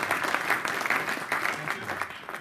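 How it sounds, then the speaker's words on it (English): A conference audience applauds a guest speaker at a product launch event, a dense continuous patter of many hands with light surges, steady and moderately loud throughout. "So let's give Reinhard a quick round of applause."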